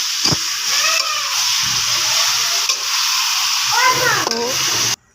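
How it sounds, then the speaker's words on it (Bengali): Red amaranth leaves fry in a pan with onion and green chili, giving a steady sizzle with occasional stirring scrapes while someone talks over it. "এইভাবে আমি পেঁয়াজ কাঁচামরিচ দিয়ে লাল শাকে ভাজি করতেছি"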